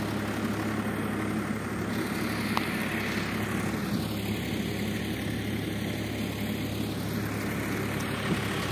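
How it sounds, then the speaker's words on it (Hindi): A tractor ploughs a farm field of not very wet soil. Its engine gives off a steady, constant drone at close to moderate range, with no talk over it. "ये ट्रैक्टर हमारे खेत में चालू है।"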